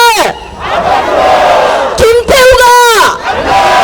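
A crowd at an outdoor Gangseo district election rally in Korea, held at Balsan Station, shouts a call-and-response chant in loud, massed voices, two rising bursts of roaring cheers after a leader's call.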